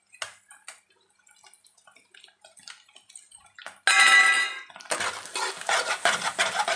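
Egg bhurji with coriander powder and fresh coriander leaves being mixed in a pan: faint clinks at first, then loud scraping stir strokes in repeated bursts.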